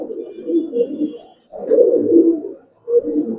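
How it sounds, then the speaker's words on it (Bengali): Giribaz pigeons coo nearby in soft, throaty bursts, three rolling phrases separated by short pauses, with no talk over them. "এবার আজকে যেই কবুতর গুলাই দেখাবো মাশাআল্লাহ"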